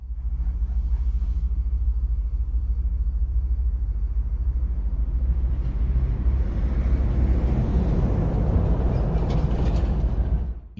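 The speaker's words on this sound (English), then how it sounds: "You can tell it's a depot because it sounds like this." Depot ambience in the Tube Sim train game: a steady low rumble of idling underground trains and machinery, with mechanical clanks and a broadening hiss of noise swelling in the second half, continuous and fairly loud with no talk.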